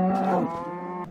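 A cow in the video game Minecraft gives one short, loud, close moo that is clear and alone, with no talk over it.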